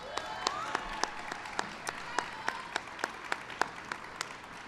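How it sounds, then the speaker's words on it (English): Scattered, quiet clapping from a small crowd at an outdoor Wounded Warrior Project Soldier Ride event, sharp individual claps landing in a loose, uneven rhythm over a low, steady background hum. "Give her a big round of applause."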